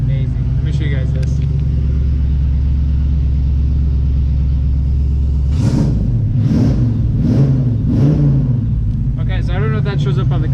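Small block 327 V8 in a Chevy Nova idling with a deep, steady rumble, then revved in four distinct bursts that swell and fall back, loud and close throughout.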